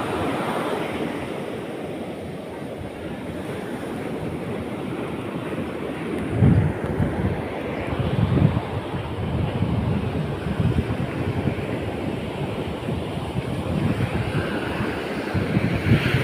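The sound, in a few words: sea waves at the beach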